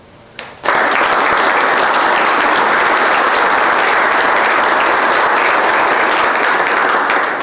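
An audience bursts into sustained, loud applause for mayoral candidates at a city debate held for employees, the clapping starting abruptly and holding steady as a dense wash of many hands for several seconds.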